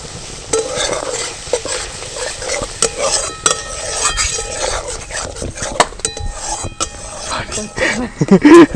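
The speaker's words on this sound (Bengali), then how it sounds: "ওদিকে মশলাটা কষা হচ্ছে" A yogurt-laced spice paste fries and is stirred in a pan, giving a continuous sizzle with frequent scraping and clinking of a utensil against the metal close to the microphone.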